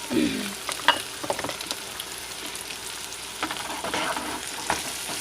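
Meatball gravy sizzles and fries in a pan while a utensil stirs it, giving steady crackling with scattered scraping clicks, close and fairly loud, no talking.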